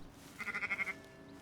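A sheep on a farm in Red Dead Redemption gives one quavering bleat of about half a second, moderately close and fairly faint, over quiet ambience.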